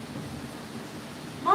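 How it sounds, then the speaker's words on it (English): Heavy monsoon rain hisses steadily with a low rumble of thunder beneath it, and a voice breaks in at the very end. "Oh, it's really monsoon."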